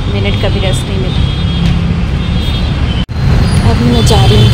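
Steady city-street traffic rumbles close by while a woman walks home on foot, with a constant low roar of passing cars and buses and a brief dropout just past the three-second mark; speech from people nearby is mixed in.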